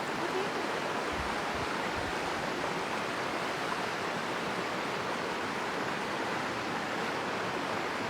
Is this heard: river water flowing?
yes